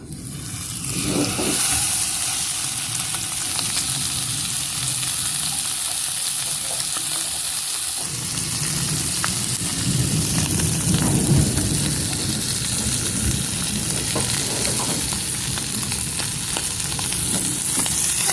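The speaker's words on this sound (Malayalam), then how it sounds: "ചിറ്റിച്ച് ഫിഷ് എടുത്ത് നേരെ ഫ്രൈ പാനിലേക്ക് ഇടാം" Marinated fish fries in a pan with a little oil, giving a loud, close, continuous sizzle and crackle that swells and settles as the pieces hit the hot oil.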